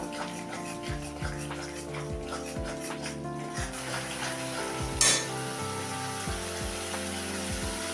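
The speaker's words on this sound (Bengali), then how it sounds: "আমি আবার একটু নাড়তে থাকবো।" Fried onions with white pepper powder stirred in oil over a high gas flame, giving a steady sizzle with spoon scrapes and one sharp clink, under a sustained tonal background.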